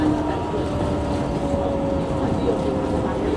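A New York City subway 7 train running through Queens toward Flushing, heard as a steady loud rumble of the rail car with a faint tonal whine throughout.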